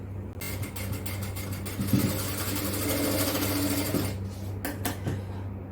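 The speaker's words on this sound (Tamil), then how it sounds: "இதில் ஒரு டம்மி தையல் தைக்கலாம்" An industrial sewing machine runs a dummy stitch along the edge of nighty fabric, a steady close mechanical whir that starts almost at once, holds for about four seconds, then stutters through a few short stops and restarts.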